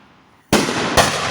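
New Year fireworks go off in two sharp booming bursts half a second apart, loud and crackling with a sustained roar after the first blast, heard outdoors with no talking.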